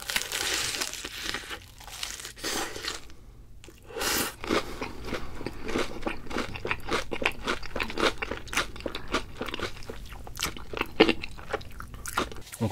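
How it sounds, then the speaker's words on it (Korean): Someone bites into and chews crunchy BHC potato-coated fried chicken close to the microphone, giving repeated sharp crackling crunches in an irregular rhythm with brief pauses and no talking. "뿌링뿌리 소스 한번 치고 먹어볼게요."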